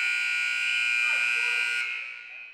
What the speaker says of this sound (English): you guys heard the buzzer. End of the first quarter.